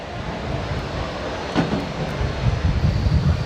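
An agricultural spraying drone flies with a steady mechanical drone and broadband whirring noise, continuous and moderately loud, with no voices.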